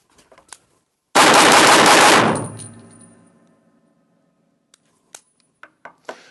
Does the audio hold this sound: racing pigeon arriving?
no